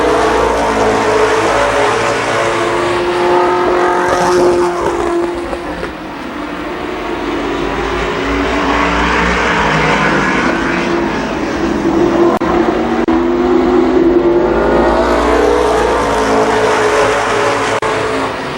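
Race cars roar around Columbus Motor Speedway in a 1993 race, a loud, dense wall of engine noise that swells and fades as groups of cars pass close by.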